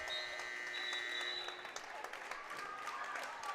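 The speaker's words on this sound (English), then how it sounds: "the fans standing up on this near side with something to cheer about" Fans of the Hillsboro/Central Valley Burros cheer and applaud at a North Dakota high school girls basketball game against Central Cass, a dense, steady roar of clapping and crowd noise filling the gym.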